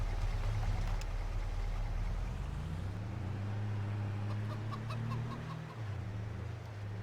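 Chickens in a chicken barn in Farming Simulator 22 cluck faintly, a few soft calls sitting over a steady, loud low hum that shifts pitch partway through; no one speaks.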